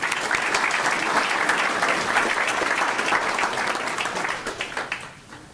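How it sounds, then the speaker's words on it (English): A school board meeting's student achievement awards audience bursts into loud, sustained clapping that holds steady for about four seconds before thinning into scattered claps and fading out. "Please join me in a round of applause for Annalise Bueno."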